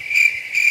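Cricket chirping in a steady high trill, two pulsing bursts close and clear with no other sounds.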